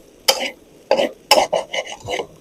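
Shrimp fried rice being stir-fried with butter in a pan: a metal spatula scrapes and clanks in about six sharp, uneven strokes, close and crisp against a quiet background.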